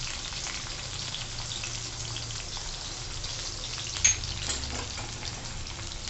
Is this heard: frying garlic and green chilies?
yes